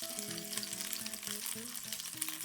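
Salmon sizzles steadily in a frying pan, a dense continuous crackle of hot oil with no talking, while a musical tone plays underneath throughout.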